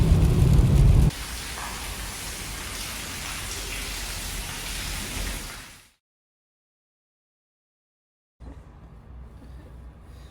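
Rain drums steadily on a moving car on a long wet drive toward Sacramento, a dense hiss over low road rumble. The noise fades out into several seconds of silence before a quieter wash of rain returns.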